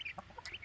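Brahma chickens in a coop give soft, scattered clucks, several short calls in quick succession, faint and close with no talking.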